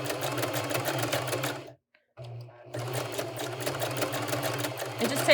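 Domestic sewing machine stitching free-hand machine embroidery, a fast steady mechanical whir that stops briefly for about a second, then runs on continuously, close up.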